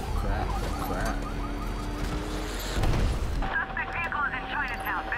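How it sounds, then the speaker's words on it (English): RPG blasts and explosions during a Batman: Arkham Knight pursuit through Chinatown, a loud continuous booming rumble with a siren-like tone and game effects, talk woven through. "Stop shooting your RPG at me, man."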